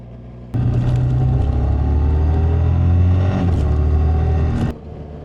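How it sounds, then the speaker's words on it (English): Motorcycle engine and exhaust while riding, a loud close rumble that starts abruptly, holds a steady low drone with pitch shifts as it revs and changes speed, then cuts off. "a nice bike with a nice sounding exhaust or engine"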